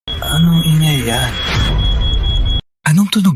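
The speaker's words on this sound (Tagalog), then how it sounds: "Gas alarm yan." A household gas alarm sounds with a steady high electronic tone, continuous for most of the moment before cutting out briefly, while people talk loudly over it and a voice rises in alarm.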